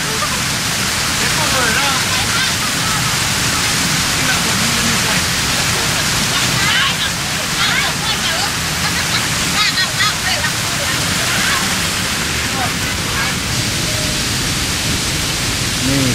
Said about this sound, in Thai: คือน้ำตกเลย